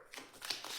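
Tarot cards being shuffled during a reading, a soft, brief papery riffle of overlapping card sounds at close range with no talking.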